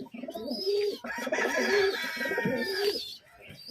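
Madrasi high-flying loft pigeons coo repeatedly in low, throaty bursts, close by, with fainter higher chirps from other birds in the background.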